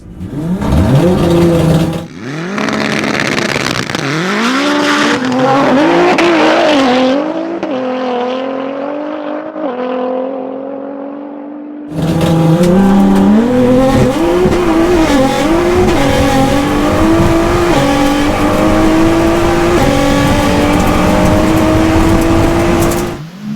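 A 1000HP Nissan GTR and an AWD 770HP Honda DC5 Type R drag race, engines screaming loudly as they rev up through the gears with rising pitch sweeps, a brief lull, then another hard, sustained full-throttle run.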